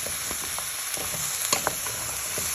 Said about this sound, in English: carefully give it a little bit of a stir into your onion, garlic